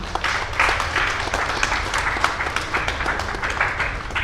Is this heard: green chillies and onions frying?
no